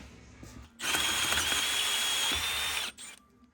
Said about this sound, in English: Usually most hole saws are, you know, one solid piece, not fucking 2 pieces.